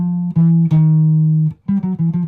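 A clean guitar plays a short blues-to-jazz phrase aimed at the root and flat seventh, with a few sustained, plucked notes, a brief gap, then quick repeated notes, loud and close with no talking.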